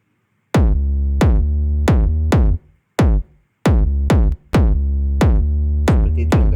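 Deep 808 synth bass with an effect applied, programmed in FL Studio Mobile. Punchy, booming notes strike in a steady rhythm, each decaying quickly, with a few short gaps between phrases. The bass plays loud and alone, without kick or voice.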